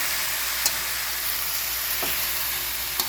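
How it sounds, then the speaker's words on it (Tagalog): Pork sizzles and sautés in a pan with tomatoes for sinigang na baboy, a loud, steady hiss of frying broken by a couple of faint clicks. "Gisahin lang natin yung karne guys hanggang sa maluto yung ating karne."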